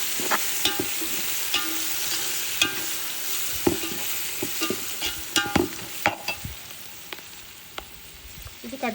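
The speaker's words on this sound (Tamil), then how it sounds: "இப்போ இதை வந்து அப்படியே வதக்கிக்கலாம்" Mint leaves are stir-fried in a pan for chicken dum biryani, a steady close sizzle broken by frequent scraping and tapping of a spatula against the pan.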